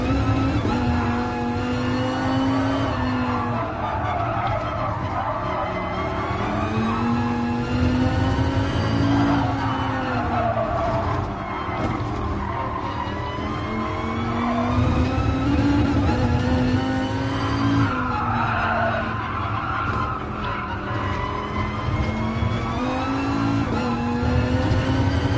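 Race car engine in Gran Turismo Sport at Fuji Raceway, a loud continuous drone with rising and falling pitch as it brakes and accelerates, with possible tyre skid, no talking.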